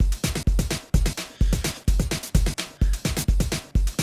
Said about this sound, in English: the regular drum pattern, which would sound like this